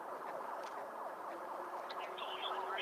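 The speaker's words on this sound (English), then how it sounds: "I hear sirens." Sirens wail with a rising and falling pattern, moderately distant and fairly quiet, over a steady background hum.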